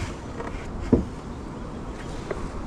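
Honey bees buzz around farm hives during an inspection, a faint, diffuse hum with a couple of brief close fly-bys under light wind.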